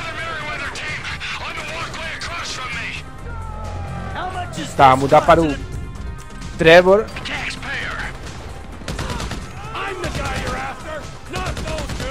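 Video game gunfire in GTA V crackles in bursts, with two louder volleys standing out amid mechanical clatter while someone talks over it.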